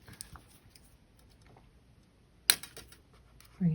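Wire cutters snip wire while wrapping woven Pipa knot earrings, one sharp crisp click standing out among faint handling taps, with a thud of handling at the end.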